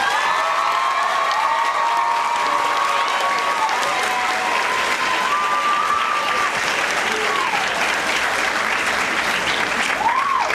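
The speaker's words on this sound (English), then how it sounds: "Mr. Spears is with us this evening, so let's give him a round of applause." A school faculty show audience breaks into loud, sustained applause with scattered whoops and whistles rising above the clapping for a former original principal.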